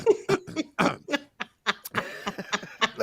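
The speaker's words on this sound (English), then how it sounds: "Let me clear my throat." A man clears his throat with a series of short, rough coughs and grunts in quick bursts, close to the microphone.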